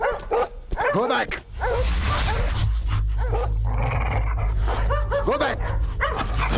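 Several dogs bark and growl close by in repeated bursts, with whimpers and yips among them, over a constant low rumble while people call out in between.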